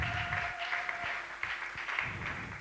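A church congregation at a women's convention applauds with steady, dense clapping that carries through the whole stretch at moderate distance. A few sharper individual claps stand out, with no words spoken.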